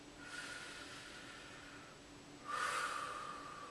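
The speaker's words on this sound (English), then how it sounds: "Then you take a deep breath" A single deep breath drawn in slowly over a few seconds, then let out in a louder, rushing exhale near the end, close and clear with no talking.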